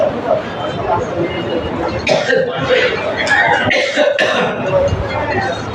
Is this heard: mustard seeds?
no